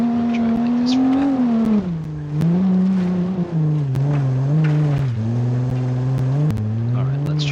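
Car engine in an off-road driving video game, a steady droning motor whose pitch dips and climbs repeatedly as the vehicle speeds up and eases off, with faint clicks over it.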